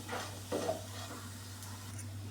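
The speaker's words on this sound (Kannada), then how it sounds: "ಈ ರೀತಿ ನಾವು ಎಣ್ಣೆಯಲ್ಲೇ ಫ್ರೈ ಮಾಡ್ಕೋಬೇಕಾಗುತ್ತೆ" Oil sizzles steadily in a pan as bitter gourd fries golden, a continuous crackling hiss with a brief stir or scrape midway, no voices.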